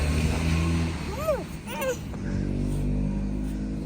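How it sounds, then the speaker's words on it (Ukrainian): A car passes by quickly on a road, its engine rising and fading as it goes, heard close over a steady outdoor rumble, with people talking nearby. "машина дуже швидко їздить тут"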